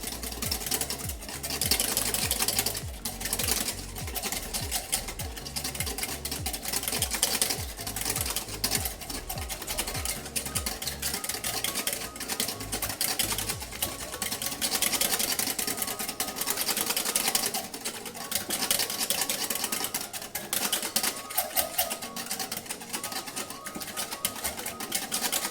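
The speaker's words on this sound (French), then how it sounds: "On mélange et on va rajouter entre 15 et 20 centilitres d'huile pour monter notre mayonnaise" A whisk beats a thin stream of oil into mayonnaise for a pasta salad dressing: steady, fast rhythmic whisking against a bowl that continues for a long stretch without speech.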